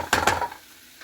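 Two quick scraping strokes of a spoon stirring homemade chicken curry in a pot, close and distinct, then the kitchen falls nearly quiet.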